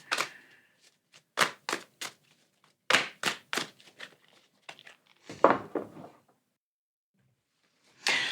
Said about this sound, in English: I feel like I need to be very controlled when I shuffle these cards